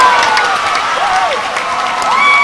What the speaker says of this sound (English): The crowd is getting into the game right now